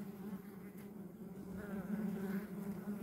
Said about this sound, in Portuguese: Um enxame de abelha muito bom